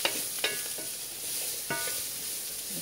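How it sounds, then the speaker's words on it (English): Chickpeas and potatoes stirred in a hot pan, with a soft steady sizzle broken by a few sharp scrapes of the spoon, close and fairly quiet. "Keep stirring them around."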